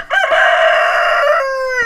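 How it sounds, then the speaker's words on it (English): A rooster crows loudly and close by in one long, drawn-out call, with a faint hint of clucking at the very start. "a little group of chickens like this"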